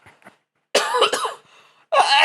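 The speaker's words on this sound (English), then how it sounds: "I got a cough." A person coughs in short bursts, a brief hack followed by a longer rough cough and another sharp one, close and loud with pauses between.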